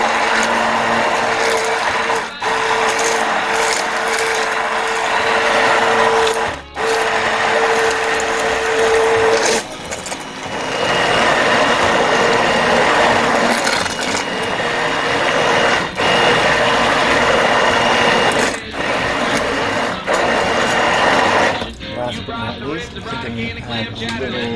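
A blender runs continuously, blending a vegan pumpkin soup made with coconut milk and white beans. The steady loud whir holds for about twenty seconds with a few brief dips, then cuts off near the end.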